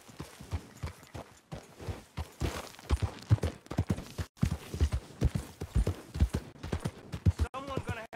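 Horse hooves clip-clop steadily at a walking pace in Red Dead Redemption 2, close and fairly loud, with someone talking over the rhythmic hoofbeats.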